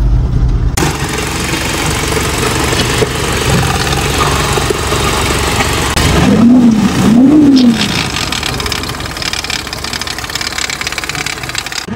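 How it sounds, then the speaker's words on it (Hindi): A car engine idles loudly with a persistent rough, grinding noise from a broken bearing running underneath, steady for the whole stretch with a brief rising whine midway. "भाई कह रहे कोई बैरिंग टूटा हुआ उसकी आवाज है"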